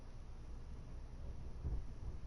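Thunder in the survival video game The Long Dark rolls as a low, muffled rumble, faint and distant, swelling briefly near the end with no talking over it.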